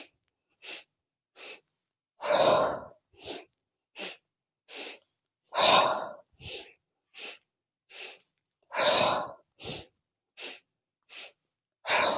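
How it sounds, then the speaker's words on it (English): Repeated sharp inhales and a few longer, forceful exhales in a yoga breathing exercise, close and fairly loud, in a steady rhythm of short breaths punctuated by deeper ones. "take a long exhale as you fold forward"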